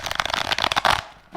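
A thick deck of about 160 playing cards riffled and shuffled by hand, a rapid fluttering patter of snapping cards for about a second, close and loud, followed by a brief pause and another riffle.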